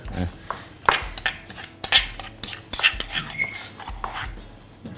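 Metal utensil scraping and clinking against a pan in irregular strokes while stir-frying green curry paste for Thai beef curry, close by, with quiet talk in between.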